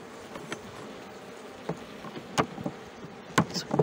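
Honeybees around a robbed hive split, a soft steady buzzing drone close by, broken by a few sharp taps and knocks of hive handling.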